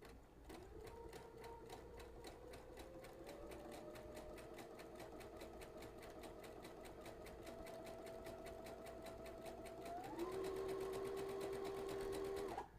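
A sewing machine stitches a wide zigzag at about 6.0 width, its steady rapid needle chatter running continuously and close, with the motor pitch stepping up near the end.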